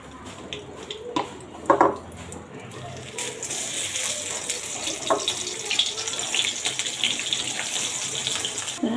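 Tap water runs steadily over dried shrimp being washed in a kitchen sink. A continuous rushing stream is broken by a few splashes and faint clinks of utensils, loud and close, with no voices.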